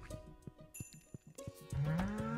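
Cows moo on a farm in the video game Stardew Valley, a few short cartoonish lowing calls over a rhythmic music bed, with a longer rising moo near the end.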